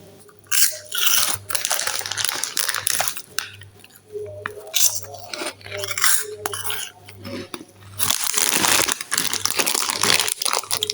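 Maltese peanut snacks crunched between the teeth in close, loud bursts of crisp cracking and chewing, with short pauses and a longer crunchy stretch near the end.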